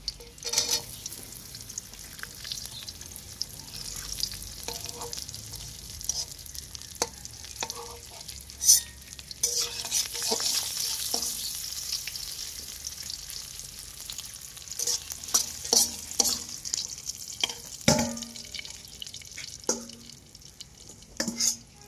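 Raisins and cashews frying in hot ghee: a close, crackling sizzle with frequent scraping stirs and spatula clicks against the pan, irregular and moderately loud.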